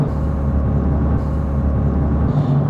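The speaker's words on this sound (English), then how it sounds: "So second gear, nothing, it builds, you hear it build, and then it goes." A Mitsubishi Evo VI tuned to about 350 horsepower pulls in second gear, its engine a loud, steady close-up drone with a strong low hum that holds almost unchanged for a few seconds.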